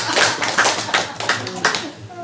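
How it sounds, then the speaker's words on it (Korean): A church audience claps hands during a sermon, a few loud, rhythmic group claps in quick succession, close and punchy, with voices mixed in. "박수 한번 쳐주세요."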